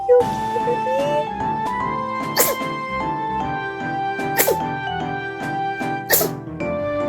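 A pet cat sneezes several times in quick, sharp bursts, spaced a couple of seconds apart, over steady background music.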